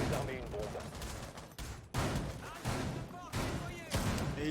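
Gunfire in a tactical shooter esports match as a player pre-fires at a position, with several sharp shot bursts over a constant babble of commentary.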